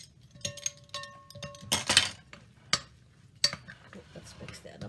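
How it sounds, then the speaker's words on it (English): A spoon stirs tuna salad seasoned with salt in a bowl, a string of scraping and clinking strokes with a few sharp knocks, close and fairly loud, with no talk. "Let's mix that up a little bit."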